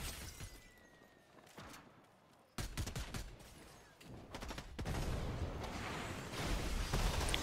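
Gunfire crackles in Fortnite as sharp, irregular shots burst out in clusters at a fair distance, over a low ambient background that thickens toward the end.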